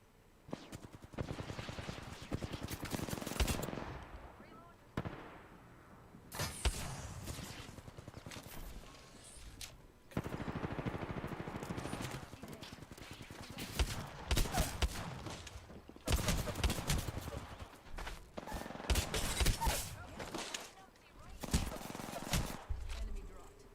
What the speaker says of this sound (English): All right, now I have a shotgun.